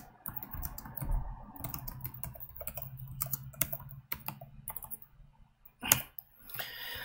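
Fingers type on a computer keyboard in a quiet room, with irregular close clicking keystrokes in bursts and a few louder thumps between them.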